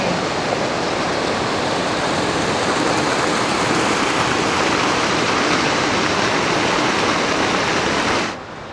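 Water rushes steadily and loudly at the Banias springs, a source of the Jordan River at the foot of Mount Hermon, as a continuous dense roar that drops off abruptly at the end.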